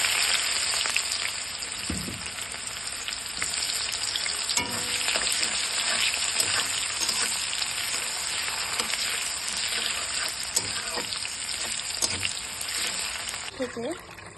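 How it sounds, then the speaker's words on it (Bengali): Chopped onions frying in oil for a mung dal with fish heads, a constant loud sizzle with occasional stirring scrapes and brief faint voice sounds. "এখন আমি কেটে রাখা পেঁয়াজগুলো দিয়ে দেব।"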